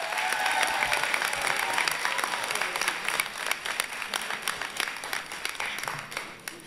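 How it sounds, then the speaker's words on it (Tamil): An indoor studio audience at a televised debate show breaks into loud, sustained applause, many hands clapping densely throughout and thinning slightly toward the end. "அதுக்கு ஒரு பலத்த கைத்தட்டல் கொடுங்க."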